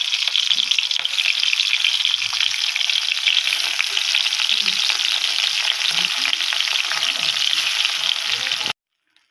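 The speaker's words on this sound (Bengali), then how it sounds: "এই তেল আমার গরম হয়ে গেছে, এর মধ্যে আমি এক এক করে চিংড়ি মাছগুলো ভেজে নেব।" Shrimp fry in hot oil with a steady, bright sizzle and crackle, with occasional soft pan movements beneath, before cutting off abruptly near the end.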